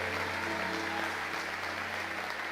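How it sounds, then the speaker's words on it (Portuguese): Church congregation applauding together, a steady wash of clapping from many hands that holds at an even level throughout. "dar um aplauso ao Senhor, dar um aplauso ao Cristo vivo"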